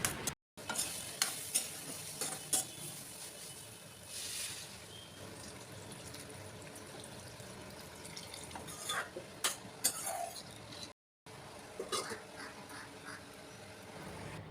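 Soybean curry with mango pickle stirred in a wok, continuous sizzling under repeated scraping and clinking of a spatula against metal, with two brief gaps of silence and no speech.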